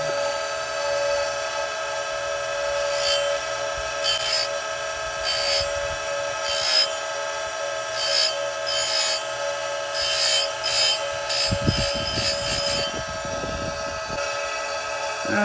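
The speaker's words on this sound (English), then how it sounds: "So let's get grinding this chain." An Oregon 410-120 chain grinder fitted with a CBN wheel sharpens chainsaw chain, giving a steady motor whine under repeated short rasping grinding passes at a regular rhythm, with a louder scraping burst near the end.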